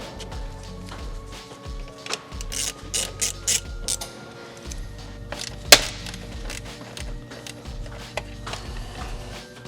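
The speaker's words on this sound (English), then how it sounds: "we're going to go ahead and use a Torx 15 bit, and we're going to place these and tighten them right here." A Torx 15 bit turns screws into an Eventuri carbon intake on a BMW G87 M2, with close ratcheting clicks, small mechanical rattles and one sharp clack midway, in short irregular bursts.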